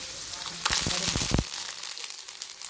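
Brief crackling and popping bursts of garlic frying in hot oil, sharp sizzles that fade into a quieter hiss.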